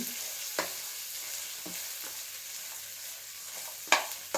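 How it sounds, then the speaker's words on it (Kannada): Mutton sambar ingredients fry in a pan, giving a steady soft sizzle with a few sharp scrapes and clinks of stirring, one louder knock near the end; close by and fairly quiet, with no talking. "ಲಾಯ್ಕ್ ಮಾಡಿ ಫ್ರೈ ಆಗೋದು"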